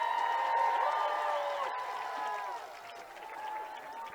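Crowd cheering and clapping at a lumberjack competition as a competitor finishes a climbing event, a steady roar of applause and shouts over a commentator's amplified voice.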